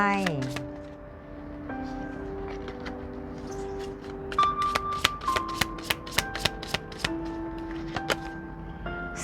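Tarot cards riffle and shuffle in a string of quick, close, crisp flicks, steady and rhythmic under soft background music.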